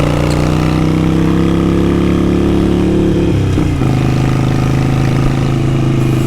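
A Harley-Davidson 883 Iron bobber with a Vance & Hines exhaust idles loud and close, a steady deep rumble that dips briefly midway, like a quick throttle blip, then settles back.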